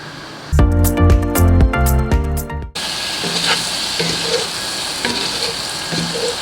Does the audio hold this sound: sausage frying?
yes